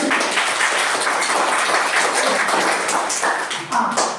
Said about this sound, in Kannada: ತುಂಬ ಚಪ್ಪಾಳೆ ತಟ್ಟಿ